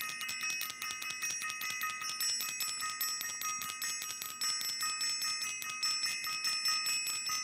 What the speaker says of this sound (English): I definitely want to ring the bell